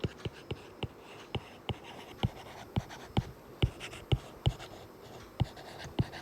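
A pen writes notes during a biology lecture, producing a steady series of crisp taps and short strokes, close and fairly quiet, with about a dozen distinct marks spread evenly across the stretch.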